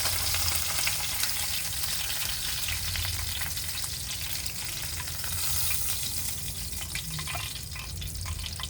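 Mackerel fries in a pan with a steady, loud crackling sizzle of hot oil, close and continuous with no talking.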